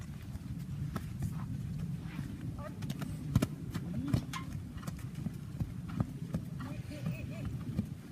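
Slow hoofbeats of a horse clip-clopping on firm ground, steady and fairly close, with a few faint bird calls in the background.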